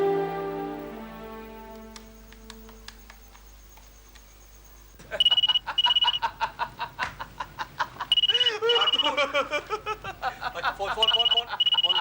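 Telephone ringing in a dramatic TV scene: a repeated electronic trill in regular bursts, loud and close, entering after a stretch of background music.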